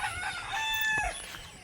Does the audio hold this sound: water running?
no